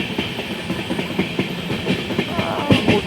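Passenger train running on rails between Berhampore and NJP in rainy weather, a steady broadband rumble with rhythmic wheel clatter and occasional louder knocks, close and continuous throughout.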